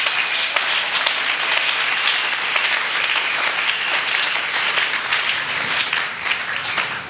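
A church congregation at a closing service claps and applauds steadily, a dense, loud wash of many hands that holds for several seconds without letting up.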